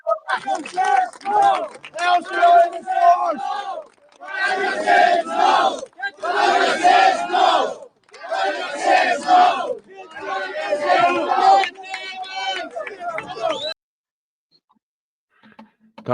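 A large crowd at an Irish street rally shouts and chants together in loud, surging bursts with brief pauses between them, ending in sudden quiet.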